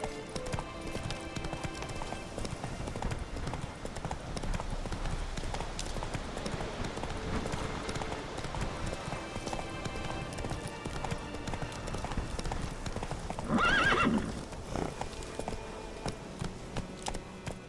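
Roach, a horse in The Witcher 3: Wild Hunt, gallops with a rapid, steady clip-clop of hooves throughout, under game ambience, with a brief louder rise near the end.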